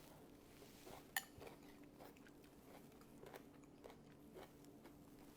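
Someone bites and chews a radish while eating chicken tortilla soup, a sharp crunch followed by faint repeated crunchy chewing, quiet and close with no talk.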